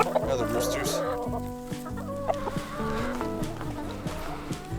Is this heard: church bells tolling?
no